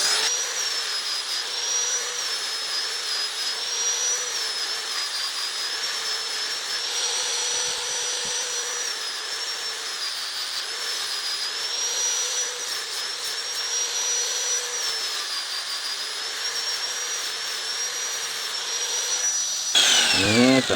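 An angle grinder smooths a knife blade made from a reused leaf spring, sending out a steady, high, whining grind that runs close and unbroken for the whole stretch with no talk.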